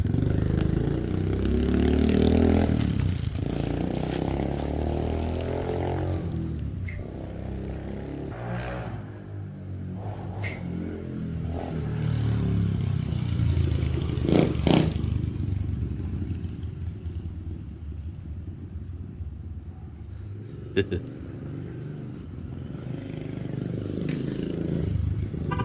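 A 2021 X-Pro Storm 125cc four-stroke dirt bike engine runs loud and close, a steady mid-pitched idle and rumble with a few brief revs and mechanical clatter, no talking over it.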